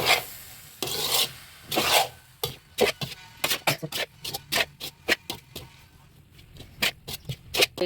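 A ladle stirs spicy pasta with macaroni in a pan, making a close run of rhythmic scraping strokes, slow and broad at first, then quicker, shorter rasps.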